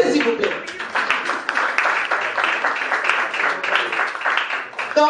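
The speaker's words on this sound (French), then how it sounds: "Applaudissez s'il vous plaît." Audience applause at an 80th birthday celebration in Matadi, DR Congo: steady, dense clapping from a crowd, sustained for several seconds at moderate loudness with no talk over it.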